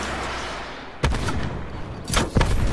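A launcher fired at a UAV in a shooter video game, heard as a sharp, booming blast followed a second later by two more heavy bangs in quick succession, all over a constant background hiss of game ambience.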